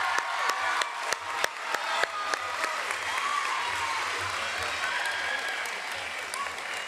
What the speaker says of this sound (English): Let's give this group a hand